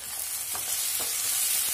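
Tomato being stirred into a frying chicken curry masala in a pan, a steady close sizzle with a few soft scraping stirs of a spoon.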